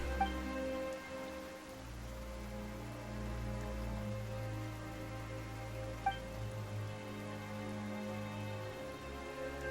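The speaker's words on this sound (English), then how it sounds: "Why is it raining all of a sudden?" Steady rain falls in a Genshin Impact scene, a continuous wash of patter mixed with a low ambient music bed, with one brief faint tap along the way and no talking.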